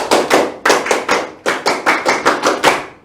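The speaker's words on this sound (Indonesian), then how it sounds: "Tepuk tangan 2 kali" About a dozen sharp hand claps close by, landing in a quick, uneven rhythm with a short pause after the first few, struck by a group in a classroom following a teacher's clapping drill.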